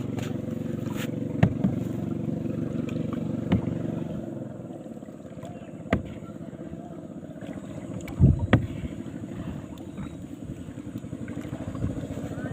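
A boat engine drones steadily on open water, a low rumble throughout with wind buffeting the microphone and a few knocks.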